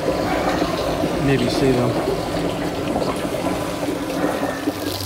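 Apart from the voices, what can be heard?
rain water draining into a rain barrel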